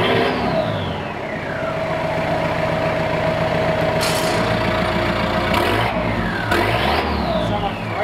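A Toyota Hilux Surf engine rumbles through a custom 3-inch straight-pipe exhaust with a cut-out valve, rising and falling in several loud, close revs over a steady idle.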